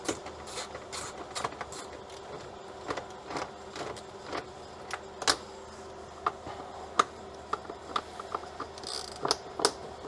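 A ratchet loosens 8 mm air filter bolts on a 2013 Honda Pilot V6, producing quick runs of sharp, close clicks in irregular bursts over quiet background.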